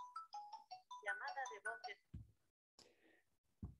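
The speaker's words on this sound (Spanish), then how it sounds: "Perdón que me sonó un teléfono." A telephone ringtone plays a string of bright, evenly spaced melodic beeps in a quiet room during a lecture, then stops, followed by a couple of soft thumps and brief handling noise.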